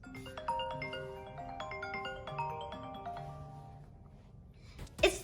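The default iPhone ringtone plays alone as a bright, chiming melody of clear repeating tones, fairly quiet, fading out near the end before a short sharp noise.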